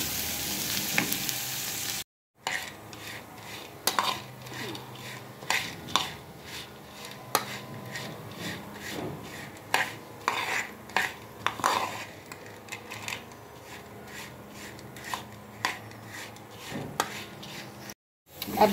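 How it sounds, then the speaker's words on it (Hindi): Chana dal halwa roasting over a low flame while a spoon stirs it continuously, a soft steady sizzle with repeated scraping and clinks against the pot, close and without talk. "मैंने मुसलसल चम्मच चलाया है और आग बिल्कुल हल्की है"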